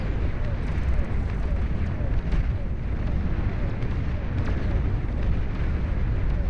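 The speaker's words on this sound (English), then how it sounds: "hard to beat the Cerberus cannon." Cerberus cannon fire in the real-time strategy game Beyond All Reason, a dense, continuous rumbling barrage of booms and bursts that stays loud and steady throughout.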